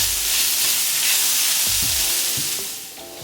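Impossible Burger meat cooks in a hot pan with a loud, continuous sizzle and hiss, with a few soft stirring knocks and scrapes, fading slightly at the end.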